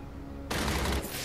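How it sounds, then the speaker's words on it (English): Gunfire in Batman Arkham City's Harley Quinn's Revenge DLC, breaking abruptly into a loud, dense volley after a quiet half second and holding as a continuous roar. "Are you actually shooting at me?"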